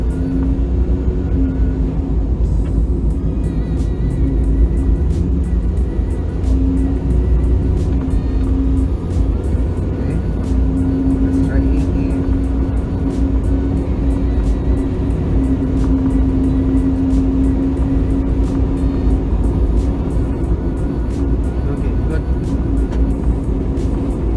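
A car accelerating up to 60 shortly after an oil and ATF change, heard from inside as a steady low engine and road rumble with a faint tonal hum, while someone talks over it.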